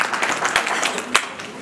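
A short burst of scattered hand clapping rises from a fundraising gathering to acknowledge a 2000 pledge, moderately loud with a sharp clap near the end before fading.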